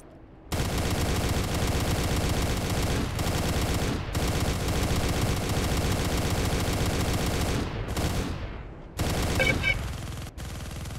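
Rapid sustained autocannon fire from a battle mech in the video game MechWarrior: Living Legends, a loud dense stream of shots in long bursts with brief breaks and no talking.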